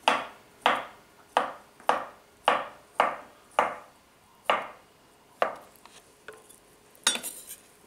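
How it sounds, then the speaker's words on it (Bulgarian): A knife chops through carrots on a cutting board, cutting each one in half. There are about ten sharp, evenly spaced thuds close up, and they thin out toward the end. "Сега е ред на морковите. Режем ги на две."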